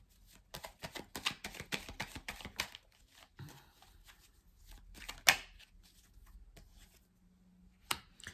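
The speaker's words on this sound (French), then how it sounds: "On va recouvrir quelques cartes" Tarot cards handled and laid over one another, soft close riffles and flicks in a busy burst, then sparse taps and a sharper snap amid quiet gaps, no speech.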